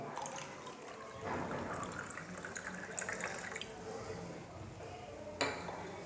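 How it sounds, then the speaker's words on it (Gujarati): Water runs and splashes into a glass beaker already holding edible oil for several seconds, with a couple of clinks of glass near the end. "હવે અંદર હું નાખીશ પાણી"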